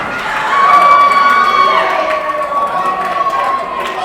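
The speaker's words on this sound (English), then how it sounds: "And the crowd's going wild here in Sedalia," A professional wrestling crowd in Sedalia, Missouri cheers and shouts in a loud, sustained roar that swells early and then holds, with voices talking over it.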